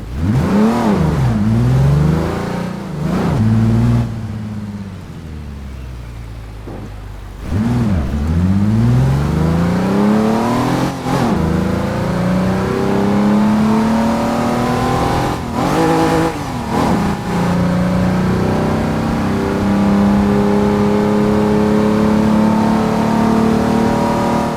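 A car engine in the driving game Pacific Coast Highway, played with a wheel and shifter, revving loudly and repeatedly through rising and falling gear shifts, with a brief quieter stretch early on.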